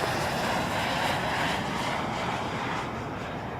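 A WestJet airliner taking off from runway 05 at Toronto Pearson Airport, its engines giving a steady, loud broadband roar that holds for several seconds and eases only slightly toward the end.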